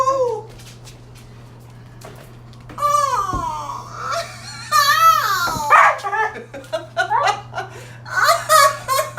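A small dog, likened to a coyote, makes barking and yelping sounds amid laughter and excited voices, close and lively with uneven bursts.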